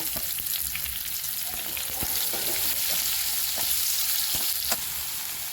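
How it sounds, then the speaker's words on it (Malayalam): Sliced onions sautéing in coconut oil in a pan for Kerala-style prawn biryani, a steady close sizzle with occasional stirring scrapes and clicks, no voices. "ആ ചട്ടിയിലേക്ക് തന്നെ നമ്മൾ കുറച്ചും കൂടെ വെളിച്ചെണ്ണ ഒഴിച്ചു കൊടുക്കുന്നുണ്ട് കേട്ടോ അതിൽ നമ്മൾ സവാള അരിഞ്ഞ് വെച്ചത് നന്നായി വഴക്കിയെടുക്കാൻ വേണ്ടിയിട്ട് ഇട്ട് കൊടുക്കുന്നുണ്ട്"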